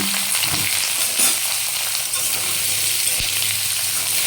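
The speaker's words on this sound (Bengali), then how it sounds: "এই আমি আলু পেঁয়াজটা একসাথে দিয়ে দিলাম" Potatoes and onions frying in hot oil, a loud continuous crackling sizzle that stays dense and even throughout, heard close with occasional faint utensil knocks and no speech.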